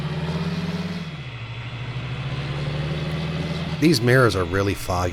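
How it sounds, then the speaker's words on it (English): Farm tractor engine pulling a trailer during an oat harvest, a steady mid-pitched idle drone running throughout, with a person speaking briefly near the end over the engine. "But I love this tractor. I love the sound of it."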